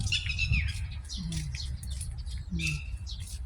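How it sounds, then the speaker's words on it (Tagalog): Several birds chirp and tweet in quick bursts in a garden in Dubai, with a steady low rumble of background noise underneath. "Ang daming ibon."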